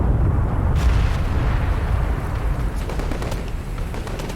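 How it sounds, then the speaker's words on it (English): Explosions and artillery fire from the modern warfare strategy game Call to Arms, a dense run of booms and blasts over a rumbling battlefield din, with a sharp impact near the start. "Now the explosions are absolutely solid."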